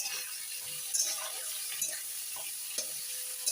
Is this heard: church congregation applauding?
no